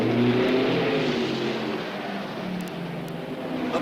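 A 1963 Indianapolis 500 race car accelerates hard out of the pits and back onto the track, its engine a loud, steady, close roar that climbs and holds throughout.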